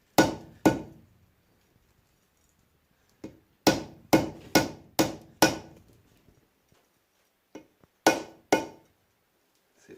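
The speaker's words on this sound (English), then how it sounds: "use a rubber mallet because you don't want to fuck up your axle" A rubber mallet taps a rear wheel seal onto a Chevy/GMC 2500/3500 floating-hub truck axle: sharp, close knocks in irregular clusters of two to four with quiet gaps between.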